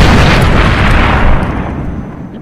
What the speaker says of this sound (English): started shooting rocket launcher at Sam.